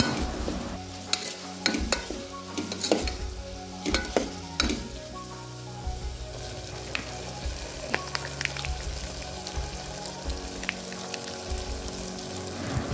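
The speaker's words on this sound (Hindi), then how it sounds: "यहाँ पर मैं थोड़ा सा सॉटे कर रही हूँ।" Ginger garlic paste with turmeric sautéing in a pan for vegetable dal, a continuous close sizzle under repeated sharp taps and scrapes of a spoon, louder in the first half.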